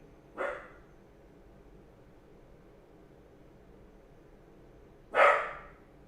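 A dog barks twice, a short bark at the start and a louder, sharper one about five seconds later, both from somewhere off in the room over a quiet background hum.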